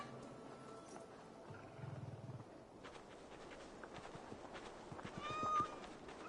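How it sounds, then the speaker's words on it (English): A cat meows in the video game Assassin's Creed Valhalla, a few short mews with game ambience and soft background sounds, alone without talk. "What a handsome cat."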